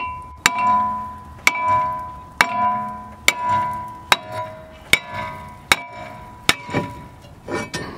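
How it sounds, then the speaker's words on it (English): Heavy hammer strikes knock a stuck brake rotor off a car's hub, landing about once a second, each a loud metallic clang that rings briefly before the next blow, close up with no voices. "so just get a big hammer."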